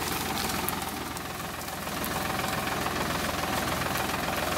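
A Farmtrac 60 tractor diesel engine runs steadily in an outdoor farm setting, giving a continuous rough, knocking chug at an even pace, close and loud with no talk.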